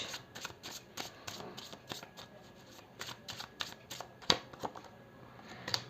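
Close, rapid riffle-shuffling of a tarot deck, a steady run of crisp papery bursts with a sharper snap near the end, heard alone without talk.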